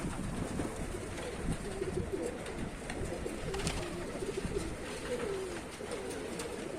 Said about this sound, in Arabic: بص يا رجاله الحمام ايه مع بعض